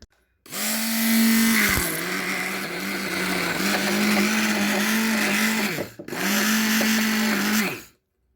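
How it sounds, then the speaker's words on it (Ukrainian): A hand blender whips cream loudly and steadily, pausing briefly once before running again, then stopping. "Зараз я це буду збивати блендером ручним."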